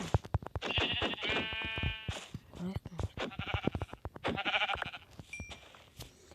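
Several bleats from a sheep in Minecraft, repeated in quick succession over clicking and tapping sounds, close and fairly loud.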